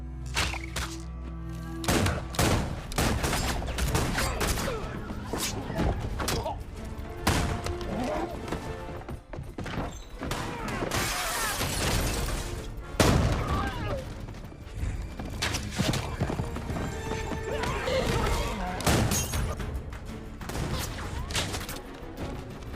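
Dense gunfire and impacts during a battle scene in a film about a village guarded by a gang, with bursts, thuds and crashes layered under a steady score and occasional voices throughout.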